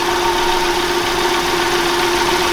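A Hyundai Elantra engine idles steadily nearby after an oil change, a constant low hum with a faint mechanical buzz and no change in pace.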